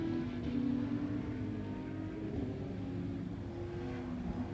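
A slow race car creeps through a turn on a road course, its low engine rumble steady and moderately loud throughout, with no talking.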